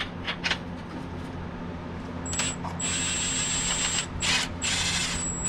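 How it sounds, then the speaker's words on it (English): A ratchet backing out the last transmission bolt while pulling an NB Miata engine, rapid close clicking in short bursts, then a high steady whine from the tool. "I'm going to take this last bolt out, but I'm going to try to not be under the transmission."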